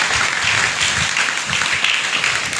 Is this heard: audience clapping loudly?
yes